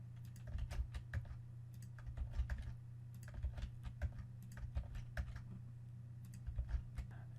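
Soft, quick keystrokes on a computer keyboard patter in short irregular bursts over a steady low hum, close but quiet, as a word is typed out.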